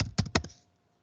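Brief burst of typing on a computer keyboard while entering a line of text in a Linux terminal, a few quick close keystrokes that stop within about half a second, then silence.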